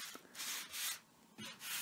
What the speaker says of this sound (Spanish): Después un poco de lija y listo.